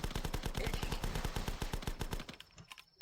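Rapid gunfire in the video game The Last Stand, a dense run of repeated shots in steady bursts that thins out and stops near the end.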